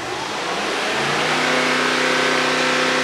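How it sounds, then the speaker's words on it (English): A Mercedes GT63s AMG engine, which has a fault, revs up from idle to about 3000 RPM and holds there, a loud, close, steady mid-pitched drone with a rising hum as revs climb. "What I now need to do is rev it up to about 3000 RPM and hold it,"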